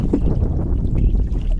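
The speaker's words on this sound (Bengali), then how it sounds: "নৌকা চালাইতে চালাইতে উৎপলদা ক্লান্ত হয়ে যাচ্ছে" A wooden boat rowed across a lake, with steady low water churning and oar wash close by, mixed with wind buffeting the microphone and no talk.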